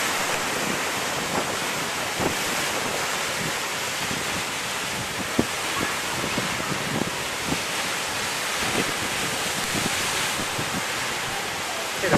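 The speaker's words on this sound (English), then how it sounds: "Unbelievable surf, how it's really picking up." Heavy surf pounds at Maho Beach, St. Martin, during Tropical Storm Maria, a constant roar of churning waves mixed with strong gusting wind buffeting the microphone, and faint scattered thumps throughout.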